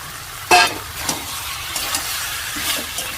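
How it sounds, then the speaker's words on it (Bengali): Potatoes are tipped into chicken frying in a pan, a loud hiss-burst near the start settling into a steady close sizzle with a few light stirring clacks, no voices. "এবার এটার মধ্যে আমরা আলুগুলো দিয়ে দেবো।"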